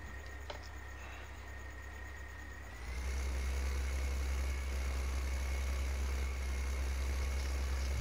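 Tractor engine in Farming Simulator 15, idling quietly at first, then revving up to a louder, steady low drone as it drives off, with no talk over it.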